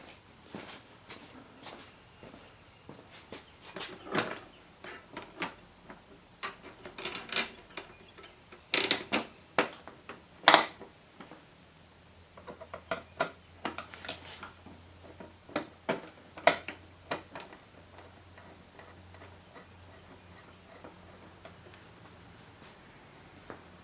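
Light intermittent clicks and taps while OEM windshield screws are gently tightened on a Kawasaki KLR dash, close and scattered, with brief shuffling handling noises between them and no speech.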